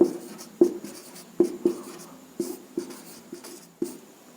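Chalk tapping and scraping against a board as a stomach-digestion note is written, a series of sharp knocks followed by short scratchy strokes at an uneven rhythm, close and clear with no talking.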